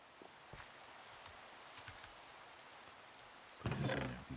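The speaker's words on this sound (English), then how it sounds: "Wish it wasn't heaving down rain." Steady rain pours down in Minecraft Java Edition, a soft continuous patter with a brief louder burst near the end, heard alone.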